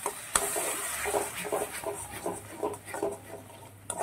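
Ground cashew and raisin paste is stirred into masala frying in a pan for a Bengali tangra fish curry, with soft scraping strokes over a low sizzle.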